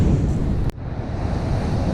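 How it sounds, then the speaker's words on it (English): Surf breaking on a beach after Hurricane Milton, with waves rolling in from the northeast under a stiff wind that buffets the microphone in a loud, continuous low rumble, briefly dipping mid-way. "Waves are kind of coming in out of the northeast. There's a stiff wind blowing."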